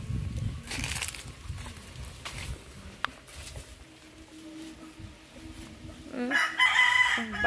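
Backyard chickens cluck softly in a rural province yard, and a rooster crows clearly near the end. Faint talk and other background sounds run underneath.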